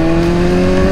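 Sport motorcycle engine while riding to a service shop, a steady loud drone with sustained harmonic tones and constant road noise, close and continuous with no talking.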